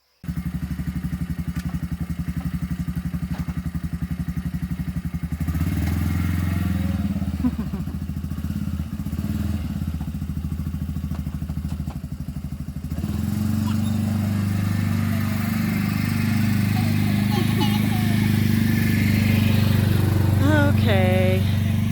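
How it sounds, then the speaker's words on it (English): Four-wheeler ATV engine revving and driving off, a loud, close motor drone that shifts pitch and grows rougher partway through, with speech over the last few seconds. "let the four-wheeler go off there"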